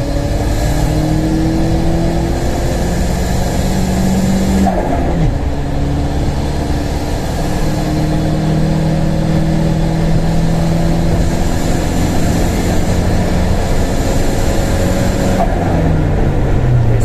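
A turbocharged car on low boost pulls hard through third and then fourth gear, the engine note rising steadily, dropping briefly at the shift near the middle, then climbing again, loud and close throughout.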